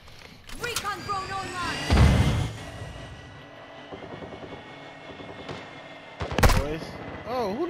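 Gunfire bursts in the online shooter Call of Duty DMZ, with loud broadband cracks around two seconds and again near six and a half seconds, over game engine hum and voices talking.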